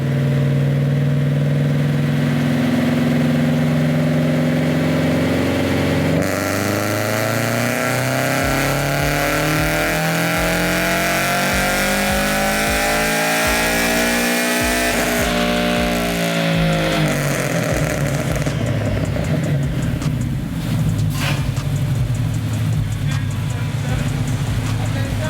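Toyota GR86 on a chassis dyno running its stock engine calibration: the engine drones, then revs steadily upward in a long rising pull, and the pitch drops and roughens as the run winds down, loud and close throughout.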